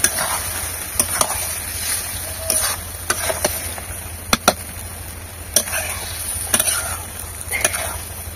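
Chicken being stirred in hot oil on a village stove: a low, steady sizzle punctuated by repeated sharp spoon scrapes and clacks against the pot at irregular intervals.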